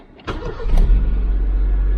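A Honda Civic EJ9 engine cranks briefly and catches, then settles into a steady, loud idle rumble.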